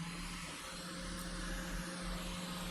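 A Quick 857DW+ hot air rework station set to 400 degrees with maximum airflow blows a steady, even rush of air, with a low hum underneath, continuous and close for the whole moment.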